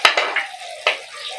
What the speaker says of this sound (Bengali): ভালো করে নেড়ে ছেড়ে নেবো।